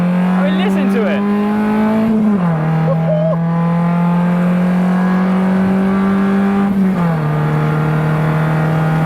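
A race car engine drones loud and close on track, its steady high-pitched tone shifting down twice as gears change, with a voice talking over it.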